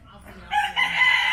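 Roosters squabbling at the Yelagiri bird sanctuary let out a single loud, close crow that swells after a quiet start and holds to the end.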